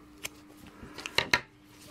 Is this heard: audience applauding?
no